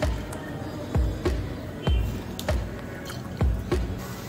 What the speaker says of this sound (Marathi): आता जिरं तडतडलंय